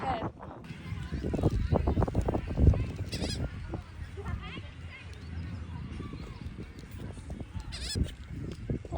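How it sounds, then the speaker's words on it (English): Seagulls in a flock call and squawk around an outdoor summer cookout, their cries rising repeatedly over people talking nearby and a busy background. "the seagull apocalypse is still going on over here"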